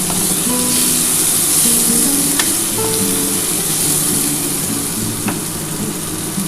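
Brinjal (eggplant) slices frying in oil in a pan with neem leaves, a loud, continuous close-up sizzle with a few faint clicks of a utensil.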